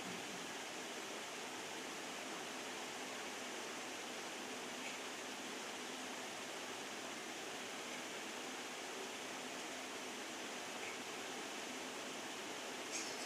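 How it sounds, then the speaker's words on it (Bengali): Water pours steadily into a pan of pumpkin and spices while cooking a sweet, sour and spicy pumpkin dish, making a continuous soft rushing hiss that lasts throughout with no voices. "এর মধ্যে এবার আমি জল অ্যাড করে দিচ্ছি"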